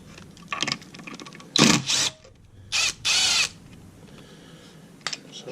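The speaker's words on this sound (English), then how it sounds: "I'm going to hit those with an impact." A pneumatic impact wrench hammers out the 10mm clutch spring bolts on a Kawasaki Vulcan S 650, firing in several sharp, loud rattling bursts of under a second each, separated by quiet pauses.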